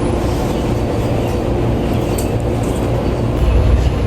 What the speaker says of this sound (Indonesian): Kita udah mau masuk keretanya. Kita udah di kereta.